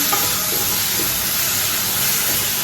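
Onion and green chillies with salt sauté in a pan with a steady, close sizzle and hiss that stays even and unbroken, with no talking over it.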